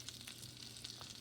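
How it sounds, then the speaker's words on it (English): Soft, steady sizzling and crackling of a plain flour tortilla frying in butter in a pan, quiet and close, with small pops scattered throughout. "this butter is kind of frying this tortilla shell, and it's going to make it crunchy"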